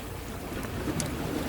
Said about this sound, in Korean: 파도가 왜 이렇게